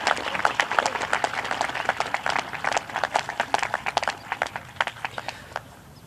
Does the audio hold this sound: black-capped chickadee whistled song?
no